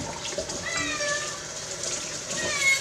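A cat meows repeatedly while being bathed, thin drawn-out cries over a steady wash of running water, with some faint voice in the background.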